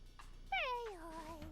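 Purrloin, a cat-like Pokemon in Detective Pikachu Returns, gives one clear close meow-like cry that rises and then slides down, with a faint short chirp before it.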